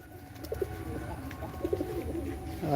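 A pair of pigeons coos softly and intermittently over low background rumble, a few short cooing phrases spread across a few seconds.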